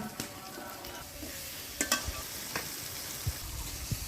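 Shrimp frying with turmeric in a pan, a soft sizzle under several sharp scraping stirs and clinks of the spatula, fairly quiet and close.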